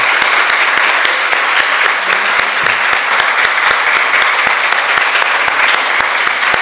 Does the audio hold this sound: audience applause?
yes